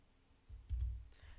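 A computer keyboard key is pressed, making a faint, quick click with a soft low thump, heard alone in a quiet room.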